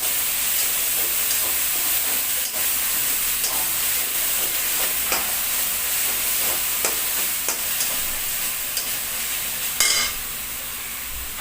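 Onion paste for a Bengali hilsa fish curry fries in a pan with a steady, dense sizzle, broken by a few scraping stirs and a brief louder spatter near the end; no voices.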